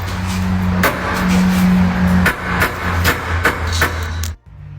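A car with worn front subframe bushings, giving repeated sharp knocking clunks at irregular intervals over a low steady hum, close by, cutting off abruptly near the end.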